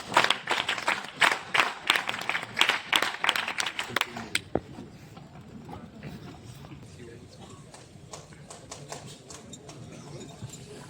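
NCC cadets at an award ceremony clap together in sharp, regular unison beats for about four seconds, then abruptly stop, leaving a quiet room with faint scattered noises.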